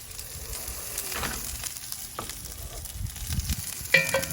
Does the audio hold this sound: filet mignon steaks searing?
yes